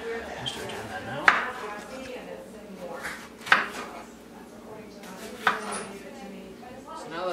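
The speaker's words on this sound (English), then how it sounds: "now I'm going to get started cutting the apples" Apples are cut with a large kitchen knife on a cutting board, giving three sharp, well-spaced knife strikes close by over a low, quiet room background.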